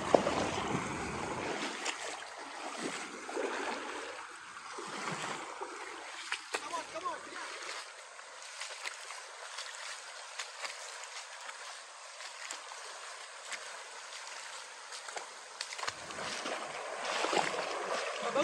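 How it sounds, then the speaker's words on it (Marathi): Water spills over a small check dam, a continuous rushing splash heard outdoors with wind buffeting, while someone talks over it intermittently. "त्याच्यावरून खाली जे पाणी पडत आहे ते बघा"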